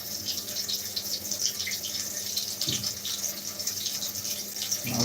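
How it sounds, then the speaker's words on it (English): Tap water runs steadily into a sink while a Dyson vacuum part is rinsed under it. The splashing flow is close and continuous, with a couple of brief knocks from handling. "Rinse this out. You can see, just rinse it out."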